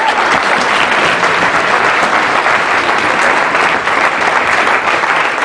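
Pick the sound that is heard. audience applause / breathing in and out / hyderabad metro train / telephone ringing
audience applause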